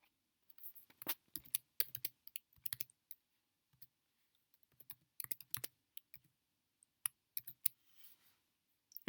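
Light, quick keystrokes on a computer keyboard as a password is entered, irregular clusters of soft clicks with short pauses between them, close and quiet in an otherwise silent room.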